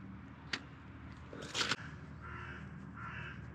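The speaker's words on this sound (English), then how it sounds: "Murder of crows." A few crows caw outdoors on a last day in Estonia, one short call early and a louder burst midway, with a drawn-out call after, set against faint ambient background and no talk.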